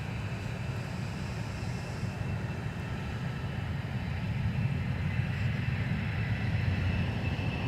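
Delta airliner touching down at Minneapolis–St. Paul airport on arrival from Cancun, Mexico, a steady broad engine roar that holds level and swells slightly toward the end, heard from a distance with no talk.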